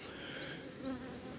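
Honey bees swarm around a hive whose queen is inside, a dense, steady buzzing hum that stays close and continuous, with no voices over it.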